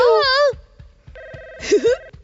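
A cartoon telephone rings with a warbling electronic trill in two bursts, bright and close, over a steady ticking beat, with a brief squiggly sound effect in the second burst.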